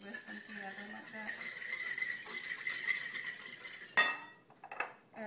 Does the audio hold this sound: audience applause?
no